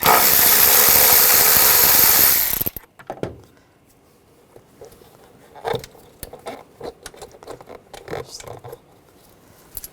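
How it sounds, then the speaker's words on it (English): A T30 socket backs screws out of the airbox on a 2006–2010 BMW 550i; a loud rushing burst cuts off abruptly, then quiet, scattered metallic clicks, ratchet ticks and small clinks follow close by. "Using a T30 socket, we're going to take the screws out."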